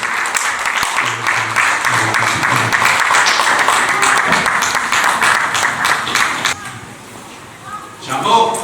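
A church congregation at a Sunday service in Melbourne breaks into sustained applause, a dense wash of clapping lasting several seconds alongside voices before fading to quieter talk.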